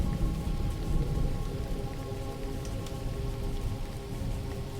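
Steady nighttime rain falls in a dense, even hiss with a low rumbling undertone, continuous and fairly close throughout.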